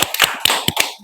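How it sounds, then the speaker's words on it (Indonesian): A classroom of students claps briefly, a quick burst of scattered, uneven hand claps that lasts about a second. "Tepuk tangan dulu."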